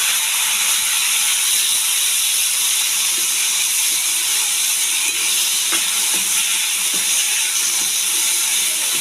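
Mixed vegetables hit a hot pan with ghee for Bengali shukto, giving a steady, loud sizzling hiss that fills the whole stretch without a break, with no talking.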